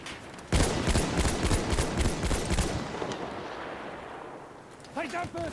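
Heavy gunfire in a video game, a fast, loud run of rapid shots and booms for a few seconds that fades out, followed by a voice talking.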